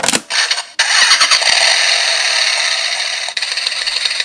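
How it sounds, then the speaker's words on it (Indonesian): The DX Accel Driver toy belt from Kamen Rider Double plays its electronic motorcycle-engine standby effect: a click, then a loud, close, sustained revving idle that runs steadily and ends in a few sputtering bursts. "dia standby seperti kayak motor yang lagi standby juga"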